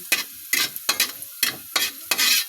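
Garlic fries in a pan while being stirred in about six brisk, evenly spaced scraping strokes, each a loud rasping burst over a quieter sizzle, with no talking.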